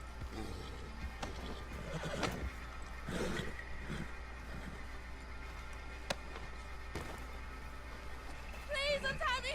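A horse in the Red Dead Redemption 2 video game whinnies and snorts amid clip-clopping hooves, with a game voice speaking over it and a final burst of neighing near the end.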